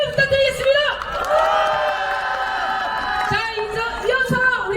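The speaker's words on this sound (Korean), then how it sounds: "선생님께 큰 박수 부탁드리겠습니다" A crowd at an outdoor political rally in Cheongju cheers and whoops, loud and close, with shouting voices and some clapping swelling and dipping throughout.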